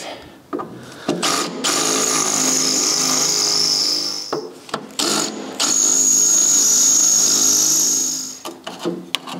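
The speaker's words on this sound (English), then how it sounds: "I'm going to try first of all to drill these" Power drill boring out seized screws in the housing of a David Brown 990 tractor during a cleanup, steady whirring bursts close by with short pauses between runs, no talking.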